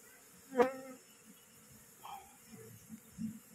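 Asian honey bees (Apis cerana) at an opened hive that had gone untended for a year, with a faint, intermittent buzz of insects flying close by and a few soft handling noises.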